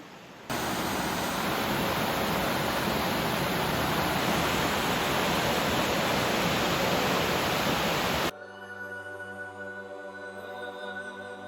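Floodwater rushing after Hurricane Helene makes a loud, steady broadband roar with no talk, then drops abruptly to a quieter, more tonal rumbling wash near the end.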